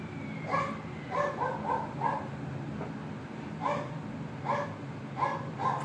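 A dog barks in short clusters of sharp yips, two or three at a time with pauses between, over a steady low background rumble.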